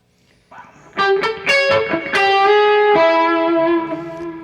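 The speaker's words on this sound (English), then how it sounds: "why did I kick on the distortion?" A distorted electric guitar plays a short phrase of picked notes, ending on a sustained ringing chord.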